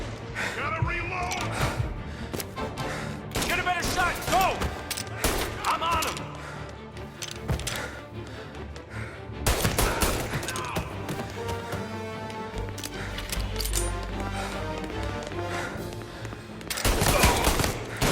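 Heavy gunfire in a Mafia Definitive Edition shootout, overlapping bursts and single shots crackling continuously at moderate loudness, with voices shouting over the fight.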